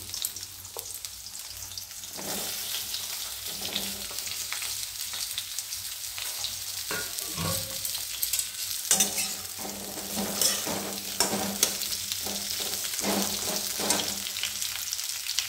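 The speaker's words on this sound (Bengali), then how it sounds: "তেলটা গরম হয়ে গেছে, আমি টিন্ডাটা ছেড়ে দিচ্ছি।" Tinda (apple gourd) drops into hot oil and fries with a steady bright sizzle, punctuated by intermittent stirring and clinks, close and continuous throughout.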